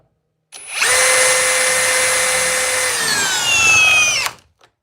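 A power tool drives a 3/8 by 5 inch lag screw, a loud continuous whirring drone lasting about four seconds, its pitch sagging under load near the end before cutting off.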